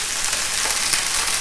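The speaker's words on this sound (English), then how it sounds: "it sizzles and crackles a hell of a lot" Steak in a frying pan giving off a bright, steady sizzle peppered with quick crackling pops, close and loud throughout a short stretch with no voices.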